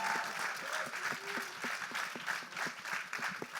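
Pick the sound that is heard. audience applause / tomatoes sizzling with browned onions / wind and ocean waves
audience applause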